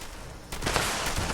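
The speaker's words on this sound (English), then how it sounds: "Who's shooting me?" Gunfire in Fallout 76 breaks out suddenly after a quieter moment, a dense burst of rapid shots that carries on loudly to the end.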